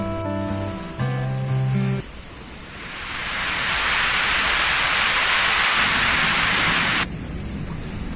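Rain with thunder on a summer evening: a few seconds of musical notes give way to a swelling, loud, steady rushing roar of downpour that cuts off abruptly near the end.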